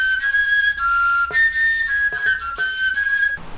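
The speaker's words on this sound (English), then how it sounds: "you can make a willow bark whistle" A shrill, steady willow bark whistle is blown continuously with a few brief breaks and pitch wobbles, loud and close, ending abruptly.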